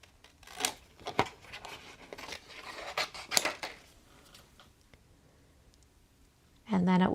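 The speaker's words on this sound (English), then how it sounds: "So I'm going to glue it to this cardstock and then just fussy cut around it." Scissors fussy cut around glued cardstock close up, giving a handful of sharp snips and papery clicks in the first few seconds that taper into quieter rustling, with speech coming in at the very end.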